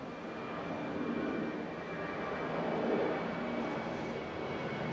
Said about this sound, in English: And here is my takeoff.